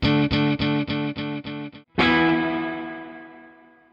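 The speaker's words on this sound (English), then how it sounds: "delay repeating your guitar back like an echo, and reverb simulating how the sound would bounce around a space" An electric guitar plays a rapid run of repeated notes, then a ringing chord that echoes and slowly fades into a long reverberant tail.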